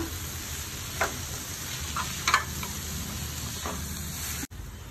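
Green chillies and ginger sizzling steadily in a pan for vegetable cutlets, with a constant frying hiss and a few light stirring clicks along the way; no one speaks.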